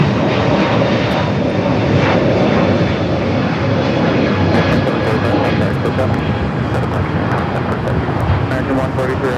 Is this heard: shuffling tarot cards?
no